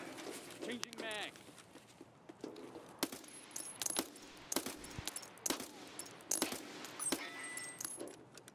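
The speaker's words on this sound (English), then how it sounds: "Changing mag." A gun magazine being changed during a video game firefight, with sharp metallic clicks and clacks rattling amid scattered gunshots and clattering, moderately close with a voice speaking briefly.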